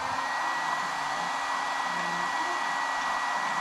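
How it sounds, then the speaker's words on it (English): A heat gun blows steadily for several seconds, a constant close airy whoosh with a faint whine and no break, while wires are being soldered. "Fire up our heat gun"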